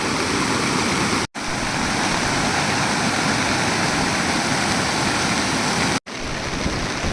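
Heavy rain pours at the Kumandala river, giving a dense, loud, constant wash of noise. It breaks off twice, very briefly.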